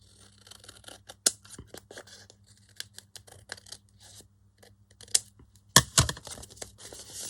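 Scissors trimming a paper envelope, a few close snips and soft paper rustles with a sharper cut near the end, heard alone without talking.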